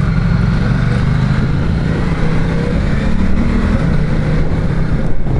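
A Ducati Diavel 1260 motorcycle is ridden at BFI 2019, its engine a loud, steady, close drone that holds throughout without talk.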